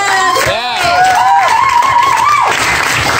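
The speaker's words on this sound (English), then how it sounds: "Can we please have a round of applause for them?" An audience at an Ottawa community arts gathering applauds and cheers the performers, a steady wash of clapping and whoops with a voice calling out over the crowd.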